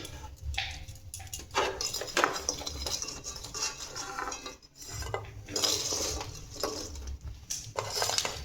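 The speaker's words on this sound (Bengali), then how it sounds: "এবার আমি একটা প্লেটের মধ্যে আমি তুলে নিচ্ছি।" Dried ash gourd murabba scraped and lifted from a wok onto a plate gives irregular clinks and scrapes of utensil on metal, broken by short pauses, close and fairly quiet.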